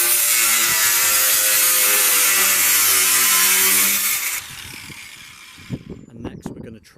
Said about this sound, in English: we're going to try and cut this metal with a Bosch cutting blade we've got